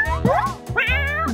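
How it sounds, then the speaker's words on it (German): A kitten mews twice in quick succession, high and wavering, close and fairly loud, during a playful prize challenge game. "Was für ein süßes Kätzchen."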